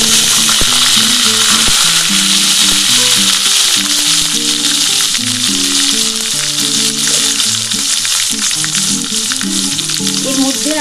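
Ground onion, ginger, garlic and green chilli paste fries in hot oil for an egg poach curry, giving a loud, steady, close sizzle with occasional stirring scrapes and no talk.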